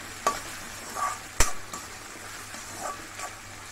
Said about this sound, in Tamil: நல்லா இந்த அளவுக்கு வதங்கினதுக்கப்புறமா எடுத்து வச்சுருக்கேன் இஞ்சி பூண்டு பேஸ்ட்டு.